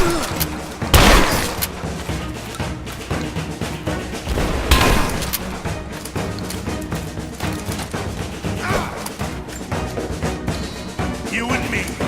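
Heavy gunfire rattles through a Rise of the Tomb Raider firefight, with loud bursts and booming blasts clustered around the start and middle over a steady din of shots, while combat voices shout.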